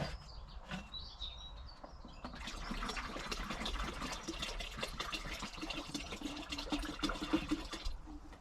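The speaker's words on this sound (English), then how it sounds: "I'll just put this in my water butt." Water pours into a garden water butt with a soft, continuous trickle and splash at close range. Birds chirp faintly in the background of a quiet Cornish garden.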